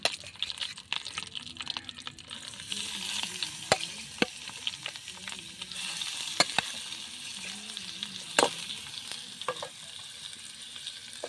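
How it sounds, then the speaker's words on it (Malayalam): Curry leaves and ginger-garlic paste fry in hot oil, a close, steady sizzle with crackles and spatters, joined by the scrape and clink of stirring in the pan and occasional louder pops. "അതുകൊണ്ട് നമ്മൾ കറിവേപ്പില ഇട്ട് കൊടുത്ത് അതിനുശേഷം നമുക്ക് നമ്മുടെ ഇഞ്ചി വെളുത്തുള്ളി അരച്ചതിട്ട് കൊടുക്കാം"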